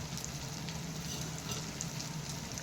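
Curry leaves hit hot oil while upma is being cooked, giving a steady, close crackling sizzle with scattered pops and no voices.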